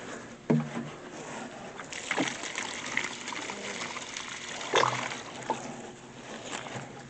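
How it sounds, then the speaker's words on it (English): Water pours and splashes into a freshly dug planting hole in a garden bed, a continuous gushing wash with a few louder splashes and thumps, fairly close. "I need to put some water in that hole."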